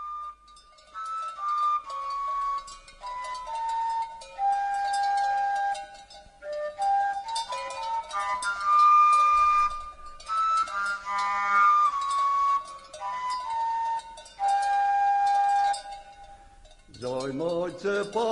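A Slovak shepherd's whistle made from tree bark, with a wooden plug pushed into the stripped bark tube, plays a lively folk tune of clear, piercing notes for about seventeen seconds, ending in quick upward-sliding tones.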